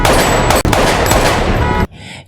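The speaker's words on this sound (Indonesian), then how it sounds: "dua orang bertopeng mencoba menghabisinya yang membuat tembak-tembakan" Rapid bursts of gunfire in a film shootout between two masked attackers and a cornered man, loud and dense with sharp cracks, ending in a short quieter gap.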